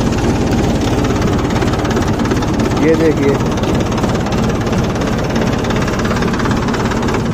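A Mahindra Bhumiputra diesel tractor engine idles steadily with a low, even chugging knock, close by, while someone talks over it.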